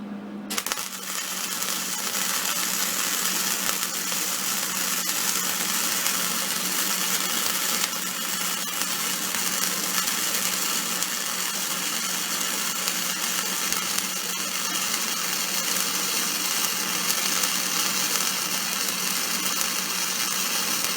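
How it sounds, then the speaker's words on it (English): Hobart Handler 140 MIG welder running a bead on 1/4 inch steel plate, a steady crackling, sizzling hiss that starts abruptly and holds at an even loud level for about twenty seconds. "So that's welding at full tilt there"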